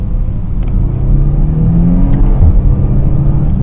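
A Porsche Panamera 4S with a V6 engine drops a few gears in manual mode, its engine rumbling and revving in the low range with a steady, close, throaty drone under brief shifts.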